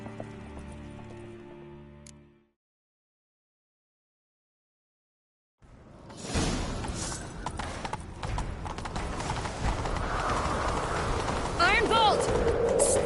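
Horse hooves gallop in the video game Witcher 3, a dense, rapid clip-clop that rises after a silent gap and keeps up a fast, loud rhythm with game sounds mixed in.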